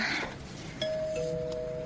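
An electronic doorbell rings in a two-note ding-dong, the clear tones ringing out and lingering over faint room noise.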